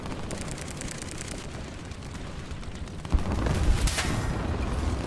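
Tank cannon fire in War Thunder aimed at a Sherman: a low rumbling battlefield din, then a sudden heavy boom at about three seconds followed by a louder sustained roar, with no talk.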